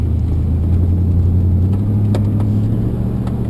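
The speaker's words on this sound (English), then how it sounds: "I'm driving to work, by the way" Inside a car driving on the road, a steady low engine and road rumble fills the cabin, constant and close, with a few faint ticks and no speech.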